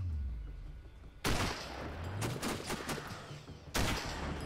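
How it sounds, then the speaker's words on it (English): Gunfire in the Sniper: Ghost Warrior shooter game: two sharp, loud shots about two and a half seconds apart, with quieter cracks and rumbling ambience between them and no talk. "Not nice to shoot at strangers."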